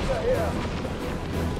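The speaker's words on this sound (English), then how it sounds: "we've got double D cannons opening fire" Heavy cannon fire in the real-time strategy game Dawn of War II: Retribution, a dense rumbling barrage of booms and crashes filling the short battle scene, mixed with faint game voice chatter.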